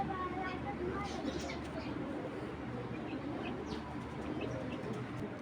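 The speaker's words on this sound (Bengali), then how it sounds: "এত বড় সাপচিলা কবুতর খুব কম পাওয়া গেছে" A large Sapchila tournament pigeon coos softly among other birds, with faint chirps and calls in a noisy outdoor setting while people talk over it throughout.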